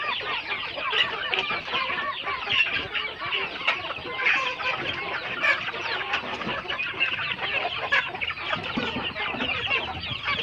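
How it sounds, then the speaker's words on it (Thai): A large flock of chickens clucks and chatters continuously, many birds overlapping at close range with no pauses. "ไก่เยอะครับรุ่นนี้"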